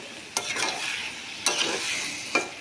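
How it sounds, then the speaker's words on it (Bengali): A spatula stirs bottle gourd and fish head curry with chopped coriander in a pan, giving three distinct scraping strokes over a soft, continuous sizzle, close and moderately quiet. "ছড়িয়ে দিয়ে আবার এটাকে মিশিয়ে দেবো ধনেপাতার সাথে।"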